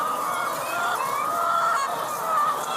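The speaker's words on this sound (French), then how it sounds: "Et là, on a un groupe de 60 poules." A group of about sixty hens in a farm cage clucks and calls together, a dense continuous chorus of overlapping bird voices close by with no talk.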